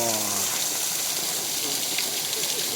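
A steady gush of water flowing down rocks from above hisses close by on a Dniester riverbank, continuous and fairly loud, with a brief voice at the start.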